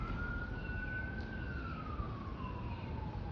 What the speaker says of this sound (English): As the sirens go by.